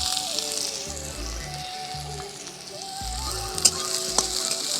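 Chopped onion frying in oil in a pan for poha, a soft steady sizzle under faint intermittent background tones, with a couple of brief clicks or stirring knocks.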